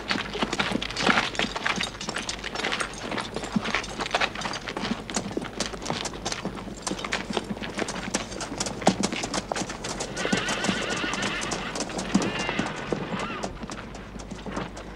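Several horses clip-clop and neigh as cavalry riders mount up in a Sahara adventure drama, hooves beating steadily and close throughout with whinnies breaking through, while voices call out over the bustle.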